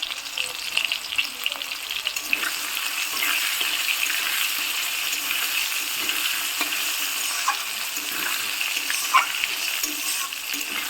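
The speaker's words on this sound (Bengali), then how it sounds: "আগে আলুগুলো ভেজে নিচ্ছি। আমি আলুর মধ্যে একটু হলুদ দিয়ে দিচ্ছি।" Potato pieces sizzle steadily in hot oil seasoned with turmeric and cumin, a bright continuous crackle with occasional stirring scrapes and pops, close up and without talk.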